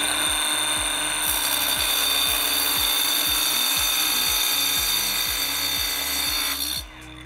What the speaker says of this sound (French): Je vais faire la découpe tout de suite pour vous montrer qu'est-ce que ça fait qu'une découpe sans eau